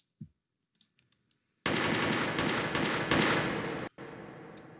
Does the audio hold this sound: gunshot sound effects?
yes